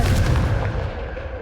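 A Confringo blasting spell detonates in Hogwarts Legacy, one heavy booming explosion up close that rumbles and fades away over about a second.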